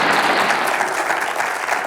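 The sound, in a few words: audience applause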